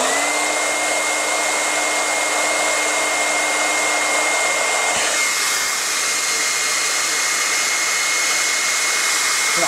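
A Panasonic EH5305P Ionity hair dryer blowing steadily on its high setting, a loud continuous whoosh with a faint whine, close by and running alone throughout.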